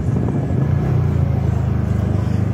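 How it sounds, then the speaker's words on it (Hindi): Heard from a moving motorcycle, a car passes close by on the road, its engine a loud, steady low rumble and hum that rises and holds against continuous wind and road noise. "देख रहे हो गाइस, अचानक गाड़ी आ गई"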